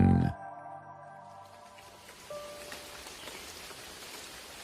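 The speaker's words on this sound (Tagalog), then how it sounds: "Kasunod noon ay ang paghina na rin ng ulan." Steady rain patters on a surface, softening after a brief louder burst at the start, with faint drips continuing.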